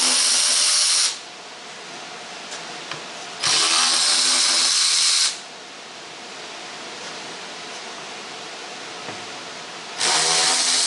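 A power tool whirs in three loud, steady bursts while removing small 10 mm bolts from the floorpan of a 1985 Mercedes 300TD, with quieter workshop clatter and faint handling sounds in the pauses between runs.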